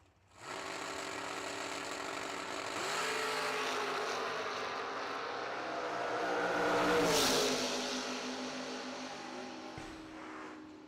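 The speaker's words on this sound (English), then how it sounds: "Mark French driving his truck. A little S10 over there on the left side." A Chevrolet S10 truck and a Gen 3 Camaro rev and launch side by side at a summer drag racing event, their engines roaring continuously and swelling to a loud peak midway before easing off.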